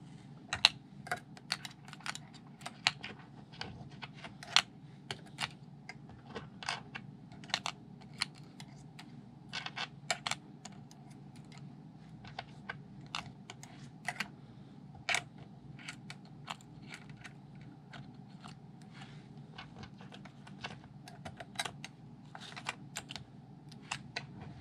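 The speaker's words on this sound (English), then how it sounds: "And I'd stack these washers in here." Metal washers are stacked into the battery compartment of a Yashica TL-Electro camera, making faint, scattered small clicks and taps in a quiet room.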